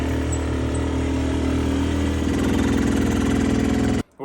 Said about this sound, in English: keeping the RPMs up in the engine just a little bit above nothing